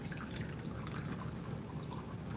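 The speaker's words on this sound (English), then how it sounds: "I only want to pour off the menstruum, the extract." Liquid extract, the menstruum, poured off from an extraction vessel while the plant material is held back, a continuous close splashing trickle at steady volume with no talking.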